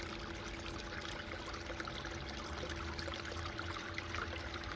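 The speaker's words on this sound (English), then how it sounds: "my water flow down here is even" Water runs steadily down a gold sluice box set at roughly a 9-degree angle, canted slightly to one side, giving a continuous, even trickling wash with a faint broadband hiss throughout.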